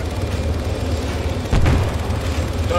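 A grenade blast in the military shooter ARMA 3, a single deep boom with a low rumble arriving partway through, set against a constant low background roar.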